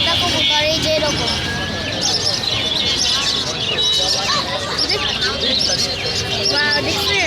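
At a busy pigeon market, birds chirp and call constantly against a loud background of crowd chatter and voices, with people talking close by throughout.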